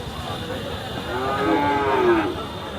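A single cow at a livestock market lets out a loud, close, drawn-out moo lasting about two seconds, with steady background noise from the market.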